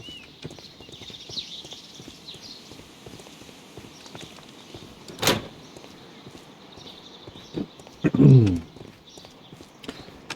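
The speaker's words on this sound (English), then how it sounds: "Horses." Horses in the video game Sherlock Holmes: Crimes and Punishments, faint scattered hoof clip-clops over a quiet ambient background, with a louder snort or whinny-like burst near the end.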